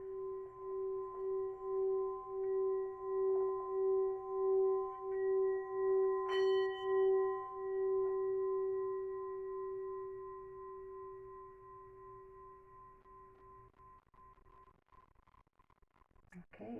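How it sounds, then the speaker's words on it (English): A singing bowl is struck and rings with a steady, sustained tone and bright overtones, pulsing gently as it slowly fades over many seconds, heard alone in a quiet room. "I'll just do one moment of the singing bowl as well"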